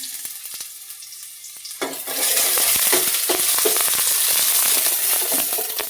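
Ginger garlic paste dropped into about two spoons of hot oil while making baby corn manchurian, a quiet pan that bursts into a loud, steady sizzle with spoon scraping and stirring clicks, close and without talk.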